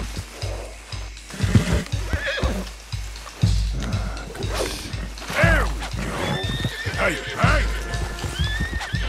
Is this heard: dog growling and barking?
no